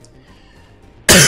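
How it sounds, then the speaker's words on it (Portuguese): A single loud, harsh cough bursts out near the end after a stretch of quiet game sound, close to the mic from a streamer playing Redeemer. "Foi mal aí pela tosse, galera"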